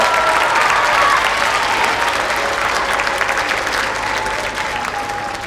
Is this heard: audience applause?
yes